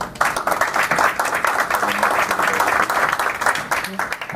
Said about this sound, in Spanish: a quien le pido un fuerte aplauso, por favor.